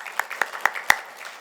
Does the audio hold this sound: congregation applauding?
yes